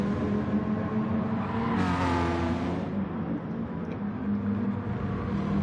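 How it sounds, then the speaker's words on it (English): Race car engine in Gran Turismo Sport during a Manufacturers Cup race at Interlagos, droning steadily and loudly throughout with a brief revving surge near the middle. "the sounds are more like real race cars"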